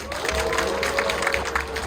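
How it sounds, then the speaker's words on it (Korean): An audience at a band concert claps, a dense steady burst of applause held at even loudness for a short stretch, with no voices over it. "많은 격려 박수 주시죠"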